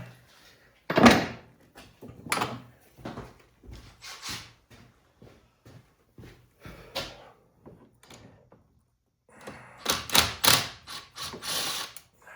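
A ratchet works a sprocket bolt loose on an Arctic Cat 450 ATV, giving bursts of clicking and metallic clatter close by, with pauses between strokes and a quick flurry near the end.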